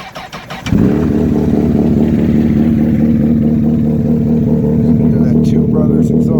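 A 2004 Honda CBR1000RR Fireblade, cold, with a Brothers exhaust, cranks and fires after a brief pause, then settles into a loud, steady, rumbling idle close to the microphone.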